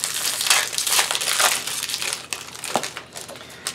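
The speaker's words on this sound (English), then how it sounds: "we're gonna open each pack" Foil wrappers of Pokemon card booster packs crinkle and tear close up, a loud continuous rustle with sharper crackling bursts as packs are opened, no talking.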